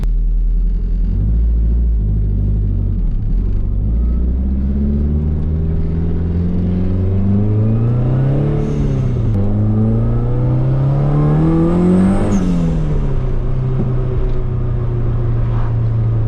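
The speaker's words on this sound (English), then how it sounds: "the car has definitely developed a little exhaust leak from dragging the downpipe so much" A drift car's engine rumbles loudly and steadily, revving up and down with a rough, raspy exhaust note throughout from an exhaust leak at a dragged downpipe.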